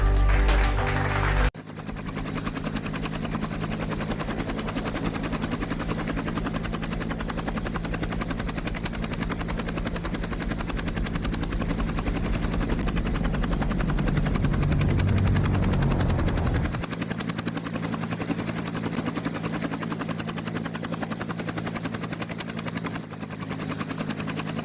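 A helicopter sound effect in a comedy cartoon election rally keeps up a steady, loud rotor chop and engine drone for over twenty seconds after a brief opening sound.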